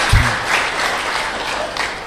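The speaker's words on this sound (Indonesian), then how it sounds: "Nggak usah tepuk tangan karena belum selesai" Audience clapping during an Indonesian religious study gathering, a short thump at the start and then a sustained, fairly even wash of hands.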